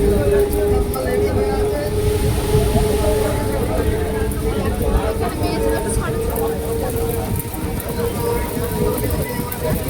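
A train pulls out of a station during heavy rain, a continuous low rumble and steady hum under a broad wash of rain noise, with people talking over it throughout.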